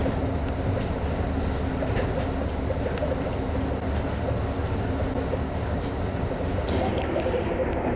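A train on a Los Angeles to Seattle route rumbles steadily along the rails, a continuous loud clatter, with faint bird chirps in the background.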